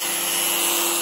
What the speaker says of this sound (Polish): chyba pilniczkiem zacząć opiłowywać